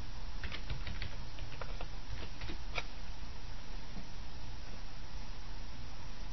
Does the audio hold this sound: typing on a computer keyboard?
yes